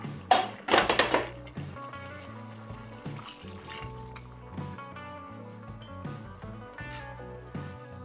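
A brief splash of water poured into a pot of plantain porridge, followed by quieter simmering and bubbling sounds with faint kitchen clatter.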